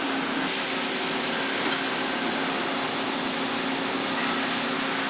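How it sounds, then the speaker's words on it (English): A 7-axis mill turn lathe rough-bores, faces and drills a metal rod in a technical college shop, giving a steady loud broadband machining roar with faint tonal whine, unbroken throughout, with no talking. "It's a 7-axis mill turn lathe."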